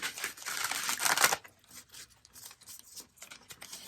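A quick riffle of cards shuffling, a burst of rapid papery flutter lasting about a second, followed by quieter soft handling taps.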